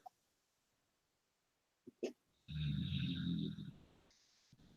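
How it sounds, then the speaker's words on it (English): A dog's snoring rumbles loudly for about a second, rough and throaty, after a few faint snorts and clicks, then tapers off into quiet. "I think I hear someone snoring, Roger."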